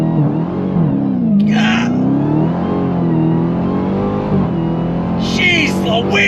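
A 2023 Dodge Challenger Black Ghost muscle car engine revving on throttle: a loud, close, deep roar that climbs and wavers in pitch over several seconds, with a brief spoken exclamation over it.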